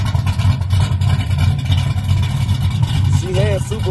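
A car engine with 3-inch exhaust rumbles nearby with a throaty, uneven exhaust note, rising and falling steadily throughout.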